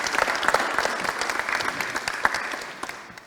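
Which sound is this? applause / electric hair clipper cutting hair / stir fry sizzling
applause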